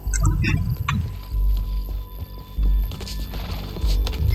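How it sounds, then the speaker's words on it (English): Horse hooves clip-clopping in Red Dead Redemption 2, a fairly close run of uneven thuds over outdoor game ambience, with a burst of bird-like chatter near the start and a thin sustained tone running underneath. "Back on your horse. Let's get after them."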